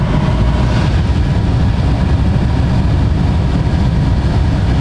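A blower cranked to full speed gives a loud, continuous low roar with a steady, unchanging drone and no voices over it.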